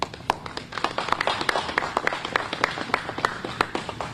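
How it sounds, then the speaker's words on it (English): A modest round of clapping at a press conference on a presidential impeachment, with individual claps distinct and sparse, fairly close, like a small group of people applauding with no one talking. "Let's give him a round of applause."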